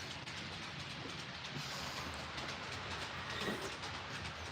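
An HO scale model train runs steadily along its track on a layout, a soft continuous rumble with faint rhythmic clicking, fairly quiet and even throughout.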